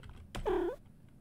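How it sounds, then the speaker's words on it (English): A stray cat in the text-based game Warsim eats a fish in a throne room. One short, clear cat cry rises and falls, fairly close, over a quiet background. "The cat happily eats the fish, purring the whole way through, and then leaves."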